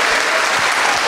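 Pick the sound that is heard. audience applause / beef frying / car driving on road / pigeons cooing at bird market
audience applause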